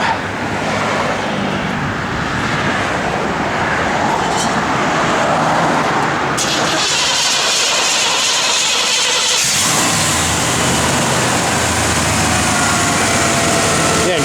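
A 1972 Buick Gran Sport with a 455 V8 cranks and fires up, then settles into a loud, rumbling run close by, with a sharp shift in the engine note partway through and no voices.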